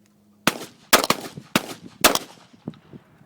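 A Sig 2022 pistol fires with extraction failures, giving four loud, close shots at uneven intervals, some closely doubled, followed by fainter mechanical clicks and handling noise.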